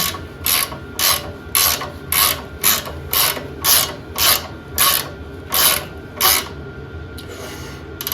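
A ratchet wrench removing a bolt from a Bolens Ride-a-matic attachment lift, with about a dozen loud, close, evenly spaced ratcheting bursts roughly every half second.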